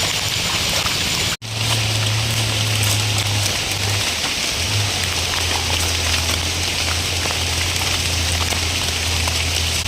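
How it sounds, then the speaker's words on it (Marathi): Steady heavy rain pours down outdoors in the Konkan hills during a wild mushroom hunt, a dense unbroken hiss that fills the whole scene with only a brief gap near the start and a low hum underneath. "उगाच पाऊस पडतोय"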